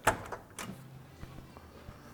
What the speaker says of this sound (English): We'll pop open the door here so you can get a close look.